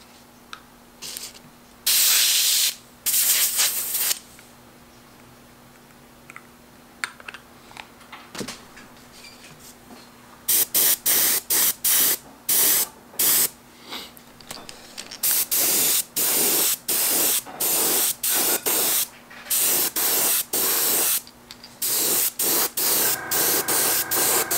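Airbrush spraying opaque white base coat onto a factory crankbait being repainted, in repeated bursts of loud hissing spray separated by short pauses, a steady series after the first few bursts.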